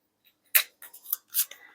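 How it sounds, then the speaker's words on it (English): Sticker peeled off a pie-baking item, heard as a few faint, crisp tearing rips in short bursts over a second or so, alone and close with no talking. "So I'm going to peel the sticker off"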